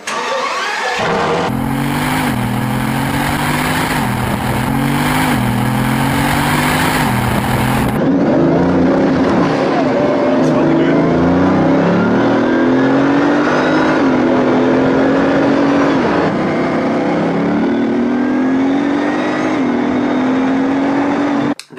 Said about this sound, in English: I'll let you hear what that sounds like now.